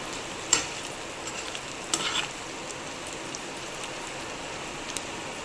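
Curry leaves fry in oil as they are stirred, a soft steady sizzle with a few light clinks and scrapes of the spoon against the pan, fairly faint and without voices.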